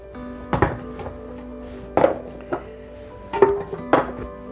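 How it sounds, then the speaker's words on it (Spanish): A knife strikes a cutting board in a few separate knocks while dicing food into small cubes, some grouped in quick pairs, close and fairly loud with a faint hum between. "Lo vamos a picar en cuadritos chiquitos, no tan grandes"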